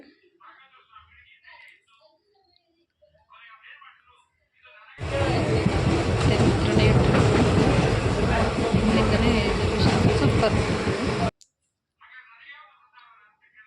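A loud, steady rumble and rattle of a train running on rails lasts several seconds, with quieter voices talking before and after it.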